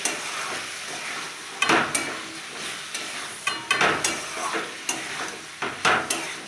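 Meat frying in oil in a pan, stirred until the oil separates, with a steady sizzle broken by repeated scraping strokes of the spoon against the pan, close and clear with no voices.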